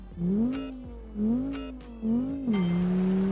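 A 1977 Eastern Bloc front-wheel-drive car engine revs in repeated surges while driving, rising and falling in pitch three or four times as it accelerates, loud and close.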